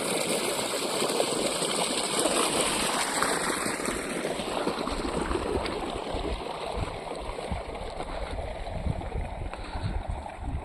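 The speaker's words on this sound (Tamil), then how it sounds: "தண்ணி ஓடிட்டு இருக்குதுங்க." Water runs along an irrigation canal beside farm fields in a steady, broadband rushing and gurgling, close and continuous, mixed with wind noise and no clear talk.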